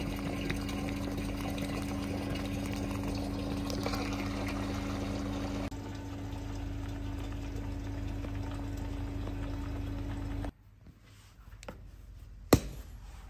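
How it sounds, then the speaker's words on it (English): Hot water being run into a bourbon barrel, a steady rushing and gurgling flow with a low pump hum that continues for about ten seconds, then stops, leaving quiet handling noises and a single knock. "We do this by just mostly or partly filling it with hot water."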